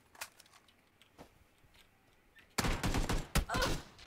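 Bursts of rapid gunfire from the battle-royale game PUBG, a few faint distant shots at first, then a loud, dense volley of close automatic fire in the final seconds.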